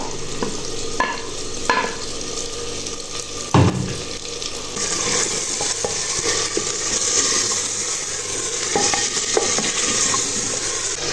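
Small pieces of pre-boiled meat frying and sizzling in a pot, stirred with a spoon that scrapes and clinks a few times over a continuous loud sizzle, with no talking.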